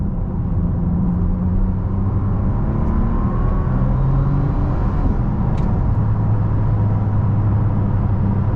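A Bentley Continental GT W12 Mulliner's engine hums and builds steadily from inside the cabin at night, a low continuous drone with road noise as the car pulls hard.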